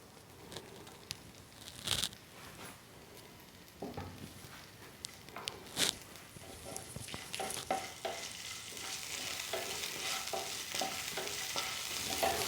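Chopped ginger sizzling in hot oil in a home kitchen pan, a soft crackling fry with scattered stirring scrapes and clicks that builds into a steadier hiss over time, close up and with no talk.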